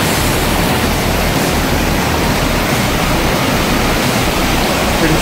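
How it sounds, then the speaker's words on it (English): Waterfalls along the Lake Louise alpine hiking trail, a constant loud rushing roar of falling water with no break. "So pretty soon you come to these waterfalls"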